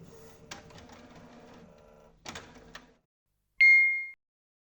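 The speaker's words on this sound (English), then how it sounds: "Turn the printer on and check if the error has disappeared." A Canon inkjet printer with error code 5100 powers on, giving two bursts of mechanical clicking and whirring followed by a single loud, sustained electronic beep.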